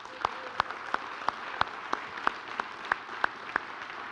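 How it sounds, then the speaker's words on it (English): Light, sparse audience clapping at a township state-of-the-township address, a few distinct claps spaced evenly and fairly quiet. "Let's give them a round of applause right now,"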